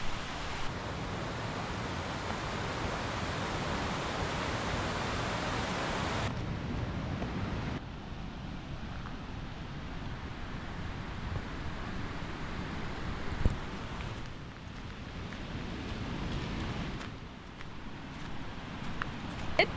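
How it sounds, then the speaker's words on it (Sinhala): Water cascades down a stream in Meemure village, Sri Lanka, as a steady broadband rush, loud and close for several seconds and then softer and more distant. No voices are present. "අහෙනවා ඇති දියල්ලක් කඩාගෙන හැලෙන"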